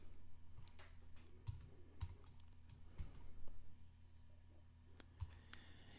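Typing on a computer keyboard, faint irregular key clicks and taps scattered over a low steady hum, quiet and close with no talk.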